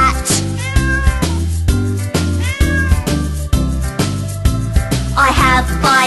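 A cat meows repeatedly with rising and falling cries, loud and close, over a steady rhythmic musical backing with no talking.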